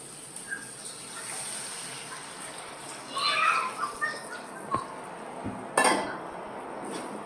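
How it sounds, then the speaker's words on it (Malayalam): Water is poured into a pan of cooked-down tomatoes, a short gushing splash with metal clinks of pan and utensils around it, quiet and close over a soft kitchen background. "നമുക്ക് കുറച്ച് വെള്ളം ഒഴിച്ചു കൊടുക്കാം"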